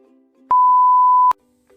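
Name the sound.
censor beep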